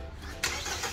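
A Mahindra XUV700 starts remotely from a phone app, its engine catching abruptly with a loud burst and settling into a steady, close idle.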